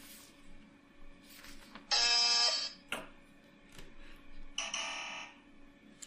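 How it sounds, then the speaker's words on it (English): Game-show style buzzer sound effects play back twice, each a harsh, loud electronic buzz lasting about a second, separated by quieter room noise and faint clicks. "This is Timothy playing every buzzer."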